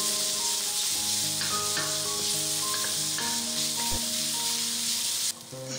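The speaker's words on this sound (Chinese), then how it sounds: "先把葱花和冬菇碎炒香" Chopped scallions and shiitake mushrooms stir-frying in a hot wok with a little oil, giving a steady close sizzle that carries on evenly and cuts off near the end. Faint tonal hum sits underneath.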